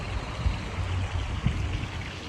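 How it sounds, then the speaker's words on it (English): The Orizaba River flows far below an elevated viewpoint in bird-rich country, giving a steady, low, even wash of moving water with no voices. "The Orizaba River is down there."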